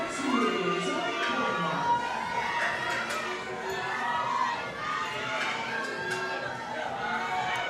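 At a high school powerlifting meet, a crowd cheers and shouts continuously in support of a lifter, a busy roar of many voices with chatter mixed in.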